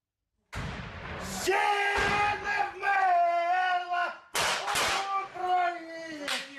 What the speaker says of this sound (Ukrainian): Наші бійці співають гімн та вивішують прапор України на фасаді Донецького аеропорту.